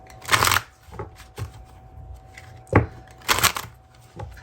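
A deck of Illuminated Star Tarot cards being shuffled by hand, bursts of crisp riffling and flapping in a few separate rounds with quiet gaps between, close to the mic and without speech.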